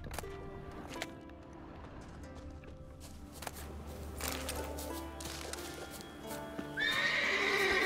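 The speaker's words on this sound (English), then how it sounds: "Vahşi atlar da var. Yabani atlar." Wild horses in The Witcher 3 neigh and whinny against an ambient game soundscape, with hooves clip-clopping; a louder, bright whinny rises near the end.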